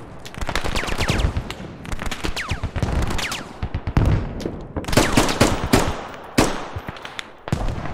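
Rapid bursts of AK rifle fire at close range in the video game Squad, sharp overlapping cracks in uneven volleys, loud and dense throughout.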